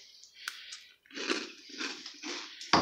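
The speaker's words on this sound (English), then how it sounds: "Real crunchy. I hear it crunching." Close-up crunchy chewing of Cuphead cereal, a few bursts of crisp crunches with brief pauses, ending on a sharp click.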